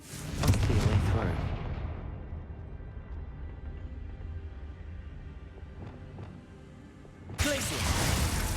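A Confringo fire spell in the video game Hogwarts Legacy bursts into a loud, booming blast that rumbles and fades over several seconds, then a second explosive hit erupts near the end.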